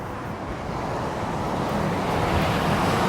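Low rumbling wind buffets the microphone steadily beside a 2001 Ford Excursion Limited with a 7.3L Powerstroke diesel, a dense roar that builds slightly toward the end, with no voices.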